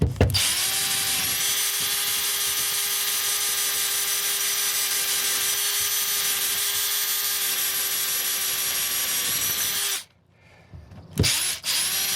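A power drill whines steadily at high speed for about ten seconds, boring continuously through a wooden garage door, then stops abruptly with a few short bursts and clatter at the end.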